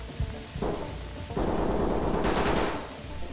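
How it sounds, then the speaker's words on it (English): Rapid automatic gunfire rattles in Ready or Not, a loud dense burst of shots with a sharp, bright crack near the end, heard without voices. "Why are they shooting each other?"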